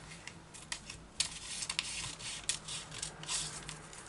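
Scissors cutting through a paper flounce pattern, close and fairly quiet, with repeated crisp snips and rustling paper in an irregular rhythm.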